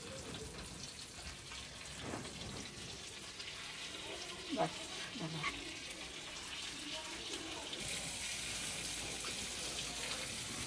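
Pomfret masala fry crackles in hot oil with a steady, close, broadband sizzle running throughout, with faint voice-like sounds mixed in partway through.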